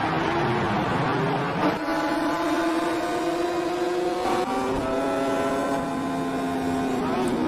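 Superbike motorcycles on a racing circuit give a steady, loud engine drone with shifting pitch, as the machines rev and hold tone for several seconds.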